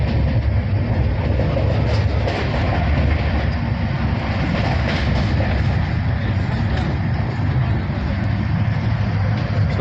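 Train rumbling along from Howrah to Kurukshetra, a steady loud rolling roar with faint clatter heard from inside the carriage, with some indistinct voices mixed in.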